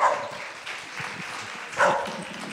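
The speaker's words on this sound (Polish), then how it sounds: "Jak się klaszcze, to ona szczeka." A dog joining in with applause during a theatre institute guest evening, giving short yapping barks at the start and again near the end over the clapping.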